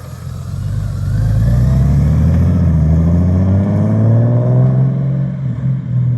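Stock 2018 Honda Goldwing fitted with a REMUS Performance Sport Exhaust, a loud close engine note rising steadily in pitch as it accelerates, a continuous deep drone with climbing harmonics and no talking.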